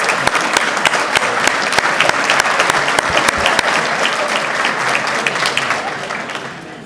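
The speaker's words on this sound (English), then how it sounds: "let's give everyone ourselves a nice round of applause" A standing crowd at a city State of the City address claps in a loud, sustained ovation, many hands blending into a dense roar with sharper individual claps poking through, easing slightly toward the end.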